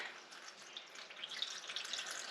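Liquid coolant pours steadily into the radiator of a 1931 Ford Model A coupe fitted with a Ford 2.3L engine, a soft continuous trickle and splash close by with no talking.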